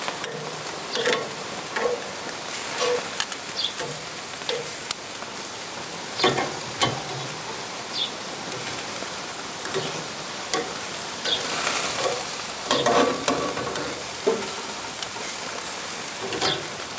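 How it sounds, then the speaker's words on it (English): Strip steak burnt ends, baby potatoes, mushrooms and fresh vegetables sizzling on a grill with steady crackling fry noise, broken by scraping stirs and occasional clinks of a utensil; close and continuous, with no talking. "Give the mushrooms a little stir."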